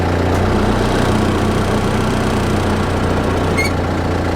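A 4x4 stuck in a bog runs in reverse to put slack on its winch cable, giving a loud, close, constant engine drone with a low rumble that holds steady throughout.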